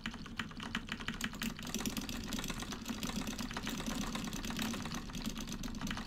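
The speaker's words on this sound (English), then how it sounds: "Apologies if you can't hear me over the sound of my gunfire keyboard" Rapid keystrokes on a loud, clicky computer keyboard clatter continuously and dense throughout, played close with a steady low background hum underneath.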